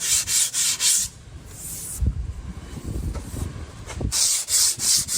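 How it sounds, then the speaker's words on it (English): A power grinder smooths the pointy edges of a homemade outdoor garden countertop, dry grinding in loud bursts of rasping, high-pitched abrasion at the start and end, with quieter scraping and knocks in between. "But I reckon just a little bit more grinding."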